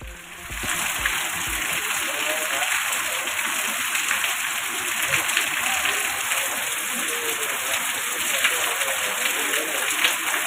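Steady wind-driven drizzle falls in the hills during a monsoon spell, a constant broadband patter and hiss with faint voices beneath, even and unbroken throughout.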